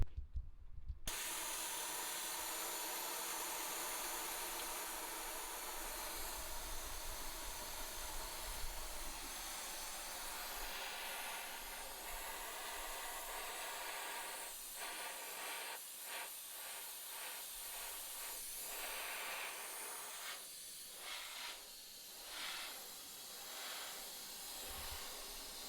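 A shop air compressor runs continuously in a garage during a Jeep build, a steady loud hiss and hum over the whole stretch, with clattering and bumping of work noises joining toward the end.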